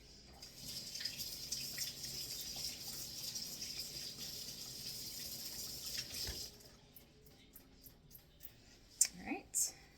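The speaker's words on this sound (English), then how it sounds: "so I'm going to wash my hand off." A running kitchen tap splashes steadily as a sticky hand is rinsed under it, then the water shuts off, leaving quiet and a brief voice.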